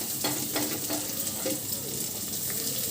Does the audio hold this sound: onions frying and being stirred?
yes